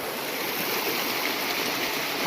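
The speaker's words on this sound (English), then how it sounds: "it was all about the waterfall." Steady broadband rush of falling water, continuous and fairly loud, with no voices and no change in intensity.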